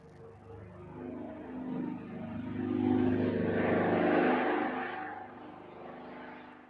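Piston engines of a DHC Caribou propeller aircraft droning at a distance, swelling louder in the middle as it passes and then easing back, with no talk.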